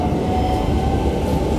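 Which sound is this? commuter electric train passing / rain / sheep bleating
commuter electric train passing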